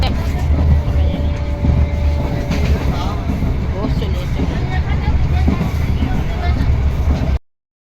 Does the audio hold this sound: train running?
yes